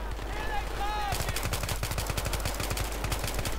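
Rapid bursts of gunfire from Battlefield 3 combat against Iraqi forces fill the scene, with sustained automatic fire and explosions dense and loud, a voice briefly audible beneath the early bursts.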